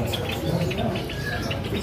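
Doves and other caged birds at a bird seller's kiosk coo and chirp continuously amid steady background noise, soft repeated calls layered close together.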